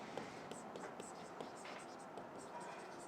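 Pen scratching on paper while a chemistry problem on atomic structure is worked out, soft rapid strokes close by under a low steady hiss.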